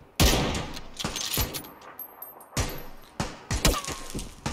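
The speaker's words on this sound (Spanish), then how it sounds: "Pero si me acaban de disparar." Rapid gunfire in the battle-royale shooter PUBG comes as sharp, loud bursts and single cracks spread irregularly across a few seconds, close by with short gaps between volleys.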